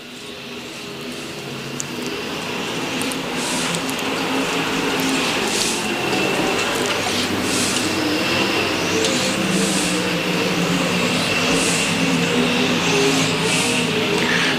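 Race cars roar on the dirt track at US 36 Raceway in Osborn, Missouri as the field accelerates after a restart. The loud, continuous engine noise builds at first and then holds steady.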